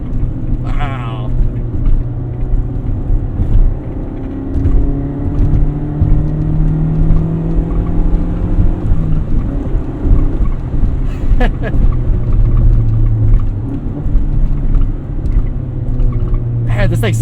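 A 1988 Honda CRX Si is being driven hard, its engine droning and rising and falling in pitch through repeated revs and gear changes, heard from inside the car with some road noise.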